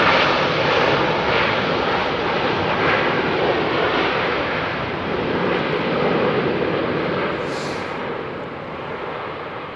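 An aircraft at London Heathrow Airport gives a loud, steady jet roar that fills the whole stretch, easing slightly toward the end, with no voices.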